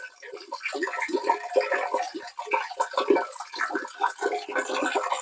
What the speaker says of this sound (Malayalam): ഇപ്പം നല്ല തെളിഞ്ഞ വെള്ളമാണ് വരുന്നത്.